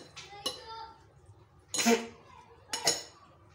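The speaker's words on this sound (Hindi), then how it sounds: "थोड़ा साथ साथ मिक्स करते जाएं।" Vegetables including cucumber, potato, apple and carrot being tossed together in a bowl for a curd salad, with a few brief clattering, clinking bursts of utensil against dish, close and moderately loud, with quiet gaps between.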